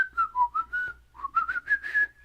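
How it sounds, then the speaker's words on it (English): A person whistling while breathing inward, producing a wavering tune of short sliding notes that rise toward the end, close and soft with no talking. "I can whistle better inwards than I can outwards."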